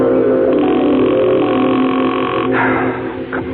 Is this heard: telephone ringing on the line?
yes